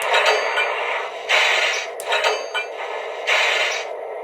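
Coupler-firing effect from a model SD40 locomotive sound set: a series of sharp mechanical clanks and hissing bursts, roughly four uneven clusters, loud and close with brief pauses between them.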